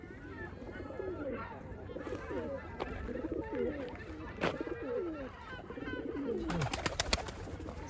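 Pigeons coo in soft repeated rolling phrases close by, with a few clicks and flutters; a burst of rustling near the end.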